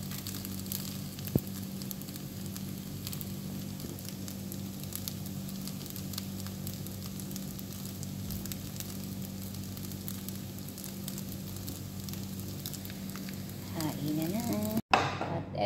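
Fried rice sizzling in a pan, a steady, even frying hiss that runs throughout at moderate level, with a brief clatter near the end.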